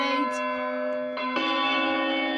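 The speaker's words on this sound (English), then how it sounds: "we're ringing all these bells up and down" Church bells ring in a Roblox re-creation of All Saints Maidstone. The bell strikes are sustained, ringing tones, with a fresh strike partway through, and they sound loud and close.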